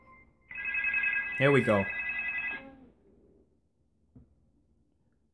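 Telephone bell ringing for an incoming call-in line on a live talk show, a continuous electronic ring lasting about two seconds with someone speaking briefly over it, then fading to quiet with a faint knock.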